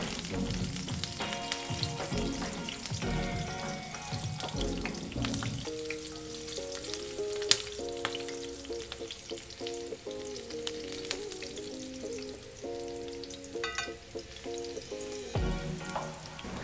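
Whole spices, dried red chilies, cinnamon, black cardamom, cloves and split green chilies sizzle steadily in hot oil, a continuous crackling fry under soft background music.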